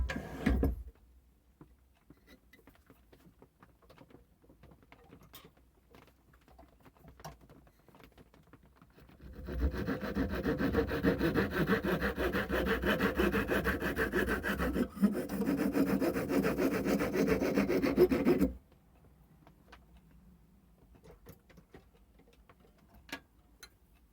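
A wooden dibber is cut with a hand saw in a steady run of rasping back-and-forth strokes lasting several seconds, close and fairly loud, with quieter handling noises before and after.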